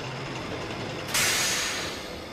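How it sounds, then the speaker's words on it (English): A steam engine train arrives in the Sodor Online video game with a sudden loud burst of hissing steam partway through, over a low rumbling background, then slowly fading. "That night, Thomas arrived at the scrapyards with a new train of fuel."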